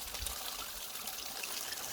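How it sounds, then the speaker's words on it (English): Running water pours steadily from a pipe at a remote, overgrown spot near an old mine, a constant broadband wash with low rumble, close and unbroken, no voices. "you guys probably heard the running water behind me"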